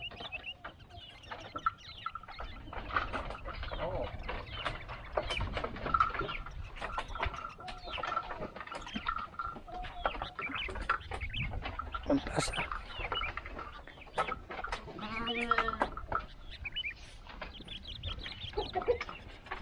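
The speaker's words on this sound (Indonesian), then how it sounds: "Ayam." Chickens cluck and chatter intermittently around a rural village in a hilly countryside setting, moderately near, mixed with background birds and people talking throughout.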